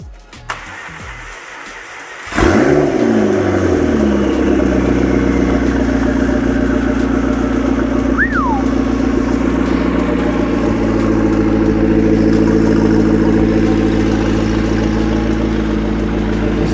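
A McLaren engine, just fitted with a new driveline damper, cranks and fires up with a sharp catch, then settles into a steady, loud idle hum with a brief rising whine partway through.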